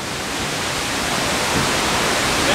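Steady, dense roar of a waterfall heard up close, a broad continuous wash of rushing water with no breaks or voices.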